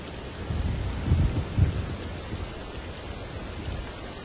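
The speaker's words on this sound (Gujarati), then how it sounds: "તો સુરત જિલ્લામાં અવિરત ધોધમાર વરસાદ છે" Steady heavy rain pours down over Surat district, Gujarat, with a dense hiss, and low rumbling swells briefly near the start before settling back into the constant downpour.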